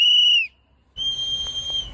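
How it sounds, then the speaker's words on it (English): A sharp, shrill whistle blown twice, a short blast then a longer sustained one after a brief gap, used on city streets to warn neighbors that ICE agents are nearby. "Whistles are all over the city right now"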